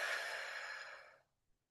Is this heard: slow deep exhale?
yes